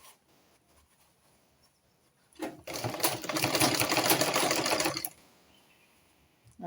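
A sewing machine stitches a seam on an off-shoulder corset, running in one steady burst of about two and a half seconds, fairly close, between quiet pauses with no talk.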